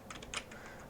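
Close computer keyboard clicks, a handful of quick keypresses within one second, fairly soft against a low room hiss, with no talking.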